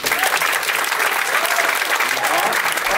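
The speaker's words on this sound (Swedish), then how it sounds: "Ni som jobbar på något sätt inom stand-up-branschen, applådera nu." Dense, loud applause from a stand-up comedy gala audience fills the room, a continuous close wash of many hands clapping for the full three seconds with a faint murmur of voices underneath.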